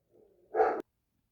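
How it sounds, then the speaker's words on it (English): A single short dog bark sounds close by indoors, preceded by a faint low whine, then silence. "my dog's barking"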